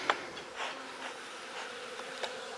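Honey bees buzz around their hives in a quiet, soft hum, with individual bees zipping close by in brief louder passes, and no voices.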